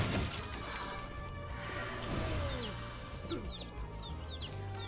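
A chicken in a video game lets out a few short clucks and squawks over steady game background sound.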